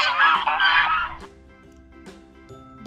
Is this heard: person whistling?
no